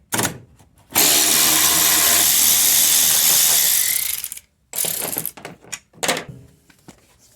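Ratchet wrench spinning a front strut bolt loose on a Mercedes GLK (X204), one long continuous loud ratcheting run followed by several shorter bursts, close and alone.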